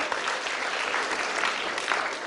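Audience applause for a good answer at a school quiz event, a dense, even patter of many hands clapping throughout the short stretch, with no talking.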